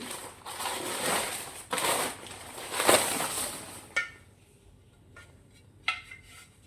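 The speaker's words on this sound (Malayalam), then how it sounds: "ചന്തയ്ക്ക് പോയിട്ട് വന്ന് ചട്ടി മേടിച്ചിരുന്നുണ്ടോ ചട്ടി" Clay pots handled at a market selling Tamil Nadu vegetables and earthenware, with a few rustling, clattering handling sounds followed by quieter sharp knocks, close and moderately faint.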